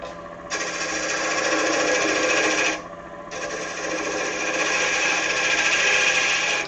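Wood lathe running in a studio, a steady close whirring hum with a brief drop near the middle before resuming at full level, no voices.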